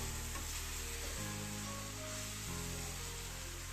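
Radish leaf sabzi with homemade garam masala sizzles in a hot pan, a continuous close hiss with faint scraping from stirring and steady background hum throughout.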